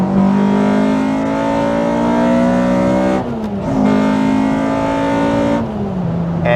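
A K24-swapped Honda Civic engine revs hard and high, holding a sustained howl, dropping briefly as it shifts, then climbing again; loud and close, no talking.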